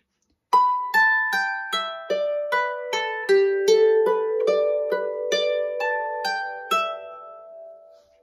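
A Manx harp plays Half A Manx Second too Late, a clear run of about sixteen evenly spaced plucked notes stepping up and down, each ringing briefly before the last note fades out.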